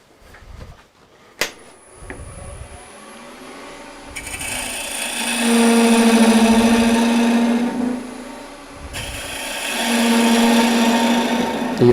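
A bowl gouge cuts a long yarn bowl blank spinning on a big wood lathe, giving a couple of sustained scraping, whining bursts over the motor's hum, with a sharp knock near the start.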